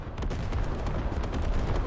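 Artillery shells burst in a Squad competitive match, a barrage of heavy, booming explosions rolling one into another, loud and steady with repeated thumps and no voices.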